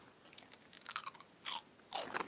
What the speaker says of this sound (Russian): Я сейчас вот жую.